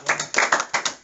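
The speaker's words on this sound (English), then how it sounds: "let's give a hand clap for God today," Rhythmic hand clapping at a church gathering, several sharp, close claps in a quick steady pattern, loud and clear with little else behind them.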